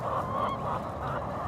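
Chickens in a chicken tractor let out a brief, nasal, honking cluck that sounds close and moderately loud, alone for a moment.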